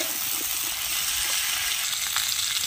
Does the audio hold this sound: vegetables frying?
yes